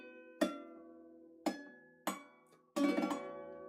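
Guitar strings plucked behind the capo by the left hand give short, bell-like percussive plinks, four sharp struck notes with quick decays, the last a denser chord-like cluster; close and quiet, with no talking.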